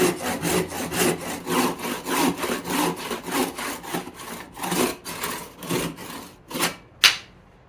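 A handsaw cuts through 2x6 timber for an outdoor picnic bench, close rhythmic back-and-forth strokes rasping steadily, then slowing into a few final strokes as the piece breaks off.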